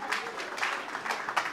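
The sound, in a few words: applause for the couple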